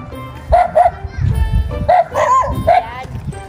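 Several dogs bark and yip near a house, sharp repeated barks in short bursts close by, with people talking over them.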